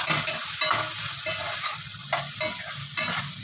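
Chicken and okra frying in a pan, a steady sizzle broken by scraping stirs and light clatters of a utensil, close and fairly quiet.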